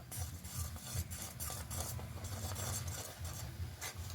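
Rice flour being mixed into water in a pot on a low flame, a soft continuous swishing and scraping of a spoon, quiet and close with faint clinks.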